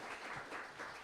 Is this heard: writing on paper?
no